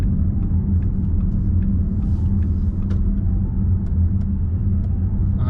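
A Porsche pulls away from a dealership, and a deep engine and road rumble holds steady and loud throughout. Faint clicks and higher mechanical noise sit over the low drone, and no one speaks.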